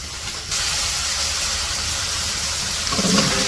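Ginger-garlic paste, salt and spices meet a splash of water in a hot pan at a village cooking fire. The pan bursts into a loud, steady hiss that holds for about three seconds, with no voices.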